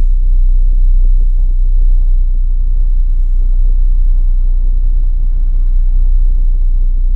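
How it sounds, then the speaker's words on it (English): A car drives through the Berry Hill Road neighborhood of Oyster Bay, Nassau County, Long Island, with a steady, loud low road rumble and engine drone heard from inside the cabin, without a break and with no talk. "We're taking a drive into Oyster Bay."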